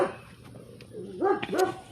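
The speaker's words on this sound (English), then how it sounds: "sorry about our dog, guys, she's a little crazy" A pet dog gives a few short, moderately distant barks and yips in a backyard vegetable garden, with no one talking.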